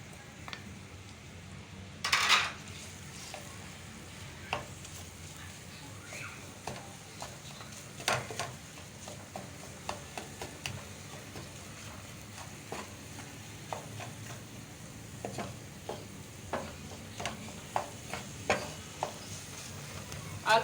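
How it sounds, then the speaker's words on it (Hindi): Pre-cooked potatoes fry in a pan as filling for stuffed green chillies, giving a faint sizzle under frequent light clinks and scrapes of a spoon against metal over a long stretch, with one louder rattle early on. "आलू को भी 20-30 सेकंड के लिए हमने इसमें फ्राई करना है बस"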